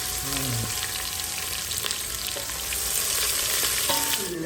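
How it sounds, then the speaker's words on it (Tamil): Steady oil sizzling and crackling in a pan as onions fry, with occasional light stirring scrapes; close and continuous. "இதை பாரு, வெங்காயம் போடுறேன்"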